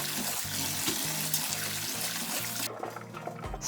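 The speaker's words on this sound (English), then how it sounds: "Wash it once in water and drain the water in the colander." Water running and splashing while brined cabbage and radish are washed and drained in a colander in a kitchen, a steady close rush with a repeating low rhythmic thump, briefly dropping near the end.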